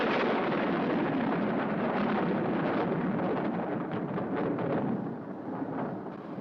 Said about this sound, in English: the storm's definitely on its way now, Jim.